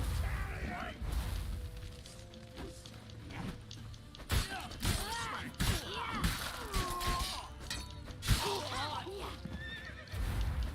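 A horse whinnies amid hoofbeats and chaotic action in The Witcher 3 video game, with game music and shouted voices layered over the loud, busy scene.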